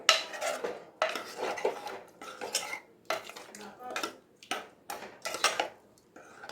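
A spoon stirs banana stem kootu in a metal pan, with repeated clattering scrapes and knocks in uneven bursts separated by short pauses, fairly close and with no talk.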